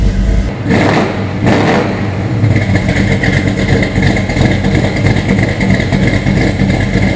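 A 1970 Chevrolet Chevelle SS 396 big-block V8 cranks, fires and settles into a loud, rumbling run close by, with its steady engine roar filling the scene.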